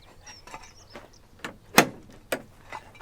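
A newly fitted door on an allotment shed is opened and closed, giving a few soft creaks and then two sharp knocking thuds. Birds chirp faintly outdoors in the background.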